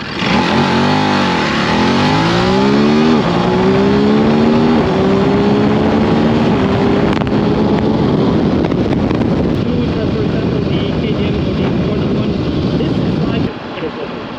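A 2023 Ducati Desert X motorcycle accelerates hard through several rising gear pulls, each climb in engine pitch ending at a shift, then settles into a loud sustained roar. The engine is close and dominates throughout.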